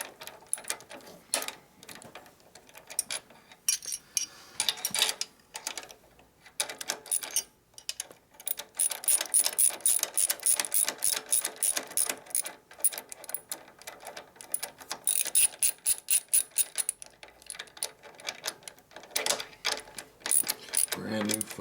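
A ratchet wrench clicks rapidly in repeated bursts while tightening parts on the motor of a 1972 Harley-Davidson XL Ironhead Sportster bobber. The clicks are close and loud, with brief pauses between strokes and faint talk in the background.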